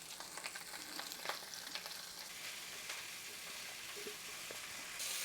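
Food frying for a vodka sauce recipe sizzles and crackles steadily in a pan, soft and close with scattered pops and faint stirring, no voices.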